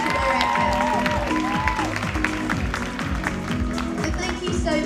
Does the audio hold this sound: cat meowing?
no